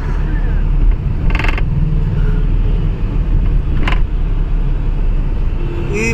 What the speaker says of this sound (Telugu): మన కారు వచ్చిందండి చూడండి